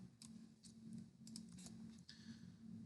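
Someone types a check-in comment on a computer keyboard in a quiet office, with light, irregular key taps in small bursts over a steady low hum.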